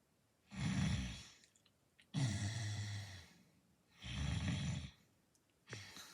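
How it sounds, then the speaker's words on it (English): Snoring from a sleeping person comes in slow, regular cycles, each a raspy breath in followed by a pause, four rounds in all, faint and close, with no talking. "I've never heard him snore like that before."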